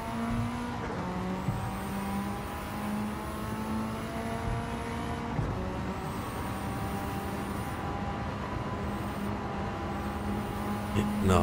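A Mitsubishi Lancer Evolution VIII race car in Gran Turismo 7 at Tokyo hums steadily with a sustained engine drone and shifting whine, eased off the throttle and rolling through a corner, loud and continuous throughout.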